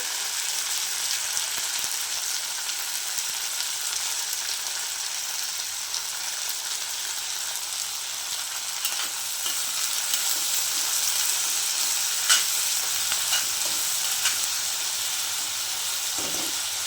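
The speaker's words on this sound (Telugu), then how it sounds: "ఇప్పుడు గోరుచిక్కుడు కూడా వేసేసుకొని మగ్గబెట్టుకుందాం. వేగుతున్నాయి కదా" Cluster beans fry with onions in a pan, making a steady, even sizzling hiss that carries on unbroken at close range with no talking.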